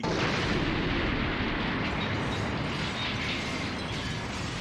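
Cannon fire in a One Piece anime episode gives a dense, sustained roar of booming blasts and rumbling, loud and continuous throughout without speech.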